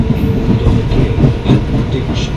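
Kalyani Simanta local train rumbling on the line near Naihati Junction, a steady low roar with faint rhythmic wheel clatter throughout the short stretch, close and loud.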